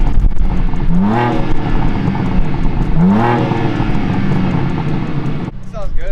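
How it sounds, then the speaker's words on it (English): A brand-new BMW M2 revs twice while parked, each blip a rising engine roar that swells and falls back to idle, close and loud, with voices talking over the running engine between revs. "Can we get a couple of revs?"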